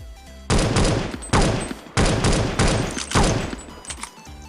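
Automatic weapon fire in Counter-Strike 1.6 with a CS:GO skin pack: four loud, rapid bursts, each lasting close to a second, separated by brief pauses, with no talking.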